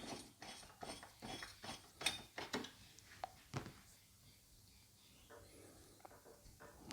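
A 5mm Allen key works a bolt on a motorcycle tail rack for a Tenere 700, giving a series of soft, close clicks and ratcheting ticks in an uneven rhythm, quiet overall.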